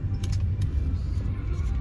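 Car engine rumble and road noise at close range as a car drives into a basement car park, a steady low drone with light rattling on top.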